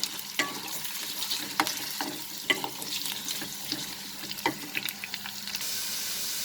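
Potatoes fry over a high flame with a steady, close crackling sizzle, punctuated by occasional sharp clicks and scrapes of stirring; no voices.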